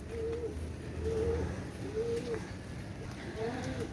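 Kaldom pigeons, a high-quality fancy breed, coo in a steady series of soft, low rounded calls, four repeated phrases evenly spaced, fairly close, over a low background rumble with no talk.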